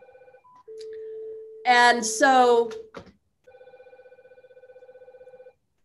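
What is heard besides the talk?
telephone ringing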